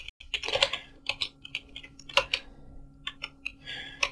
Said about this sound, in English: I will just type a small code right here